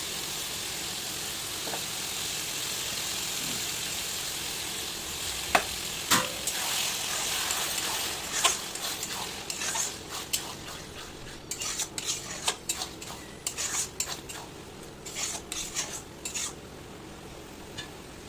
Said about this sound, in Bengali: আদাটা একটু ভাজতে দেবো।